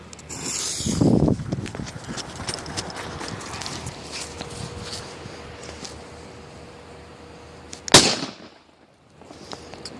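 Crackling bursts of mixed firecrackers, a cluster early on and one sharp loud bang later, over steady outdoor background noise with car horns.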